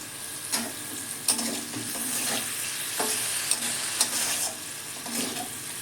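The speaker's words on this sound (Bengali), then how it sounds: "গরম হয়ে গেছে তেল এবং ঘি পনিরগুলো দিয়ে দিলাম" Cubes of paneer frying in hot oil and ghee with a pinch of turmeric and salt in a kadai, a steady close sizzle broken by several spoon-stirring scrapes and clatters.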